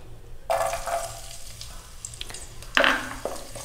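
Chopped garlic, a tablespoon of it, drops into heated oil for Schezwan noodles and sets off a sudden bright sizzle, which settles and then flares up again as it is stirred, close by with no talking.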